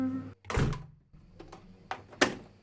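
A door swings shut with a solid thunk, followed by a few sharper clicks and knocks as it is locked, each sound short and close with quiet gaps between.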